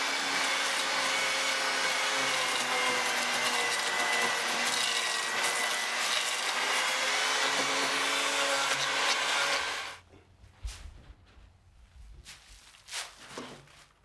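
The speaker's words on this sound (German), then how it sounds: "Es wird leicht mit der Flex noch drüber geschliffen, dass das Gröbste weg ist" An angle grinder sands a wooden fountain basin with a loud, steady whining roar that cuts off abruptly, leaving quieter knocks and shuffling sounds of handling the wood.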